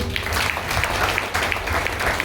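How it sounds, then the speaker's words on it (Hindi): Audience applause at a Brahma Kumaris ashram gathering, a dense, steady wash of many hands clapping that holds at an even loudness through the whole stretch, with no talk over it. "एक और जोरदार तालियां"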